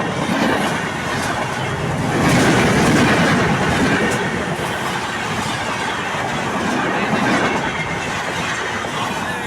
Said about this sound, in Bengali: এই ট্রেনটা দেখার উদ্দেশ্যে আসছিলাম